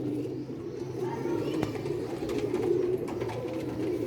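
Pigeons coo softly and continuously in a loft, a low murmuring drone with no voices.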